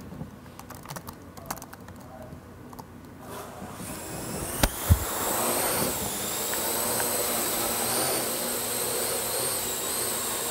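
A small quadcopter drone spins up partway through with a rising high-pitched whine, preceded by keyboard typing and a couple of sharp clicks, then hovers with a steady buzzing drone.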